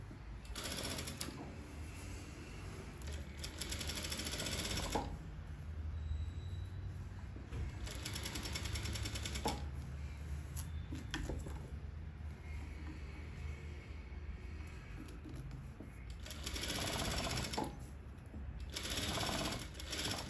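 Sewing machine stitching the curved neckline of a ruffled Europa dress, running in several steady bursts of rapid mechanical whirring with brief pauses between passes, close and fairly quiet.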